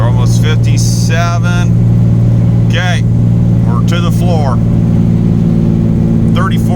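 An old Ford turbo truck engine at full throttle climbs a hill under a heavy load, a loud steady droning roar throughout, with someone talking over it.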